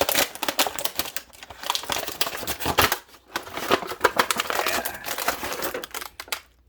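Packaging of a Mattel WWE Elite Legends figure being torn open, a continuous close run of ripping cardboard, crinkling plastic and crunching with brief pauses, and a short spoken word.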